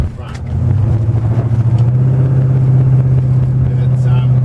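A 1969 XW Ford Falcon being driven, its steady engine drone and road rumble filling the cabin without a break while people talk over it.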